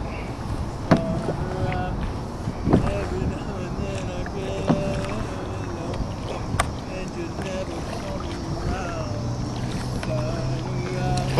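Oars or paddles dipping and splashing from a small boat on open water, with occasional sharp strokes over steady wind and water noise; voices talk nearby.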